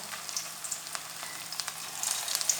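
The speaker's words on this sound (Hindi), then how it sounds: "घी गर्म हो चुका है, अब पकौड़े डालना स्टार्ट करते हैं" Vegetable pakoras, Chinese-style, frying in hot ghee, a quiet even crackle and sizzle with scattered small pops building slightly toward the end, no talk.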